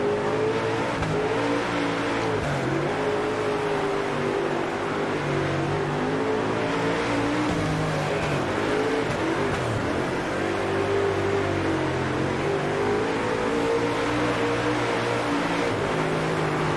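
A dirt-track race car engine in the World of Outlaws: Dirt Racing video game drones continuously at high revs, its pitch rising and falling through corners over several laps, loud and alone.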